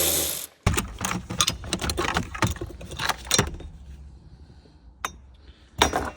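Nuts being worked off the shifter assembly of a VW Scirocco R being swapped to an R36 engine: a rapid run of metallic ratchet clicks and clinks, then sparse single taps and a final short burst, close and alone.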